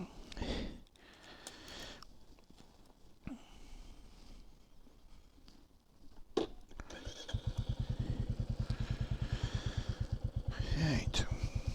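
A Royal Enfield Classic 350 motorcycle first idles quietly under breathy noise and a few knocks, then a rapid, evenly pulsing single-cylinder thump builds and stays close and steady.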